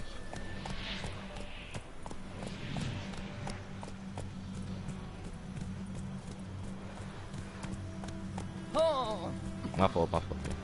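Roach the horse galloping in The Witcher 3, with rhythmic hoofbeats running under steady game ambience, a brief whinny-like cry near the end, while a person talks over it.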